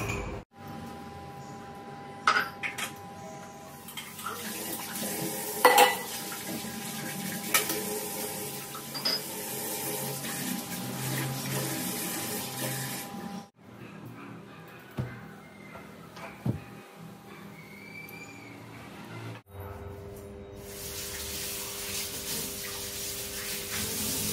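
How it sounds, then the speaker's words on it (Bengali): Tea dishes and utensils washed by hand in water: running tap, splashing and occasional clinks of cups and cutlery, with brief pauses, close by. "বানিয়ে এতক্ষণে চায়ের বাসন ধুতে এলাম"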